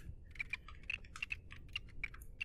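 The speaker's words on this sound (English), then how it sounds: "He's typing away. Typey, typey, typey, typey, type." A robot types on a keyboard in the video game The Station, a quick irregular run of light, crisp key clicks that is soft and close, with no voices over it.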